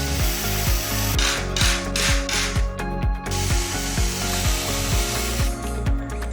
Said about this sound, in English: Then unscrew the top.